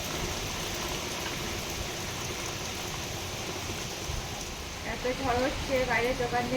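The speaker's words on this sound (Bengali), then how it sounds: "বৃষ্টি ছাড়ছে না এত বৃষ্টি হচ্ছে" Heavy rain pours during Cyclone Remal in the Sundarbans as a dense, continuous hiss, and a voice speaks over it toward the end.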